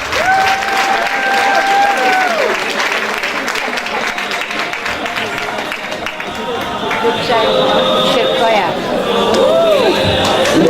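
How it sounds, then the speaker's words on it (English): Audience clapping at a fundraising event, sustained applause mixed with crowd chatter and a voice talking over it, with tonal sounds rising and falling through the noisy room. "Please clap, ladies and gentlemen."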